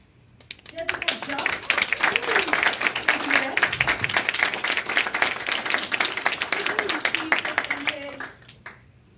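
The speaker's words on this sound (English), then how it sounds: "I would like to give a big, big applause" Audience applause rises quickly and holds strong for several seconds before fading out, with distinct individual claps, while people talk and call out over it.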